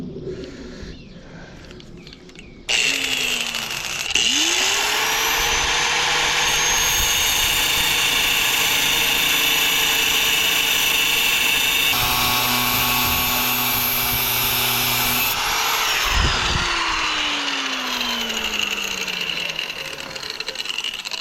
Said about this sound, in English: I'm just gonna cut off those 3 threads right there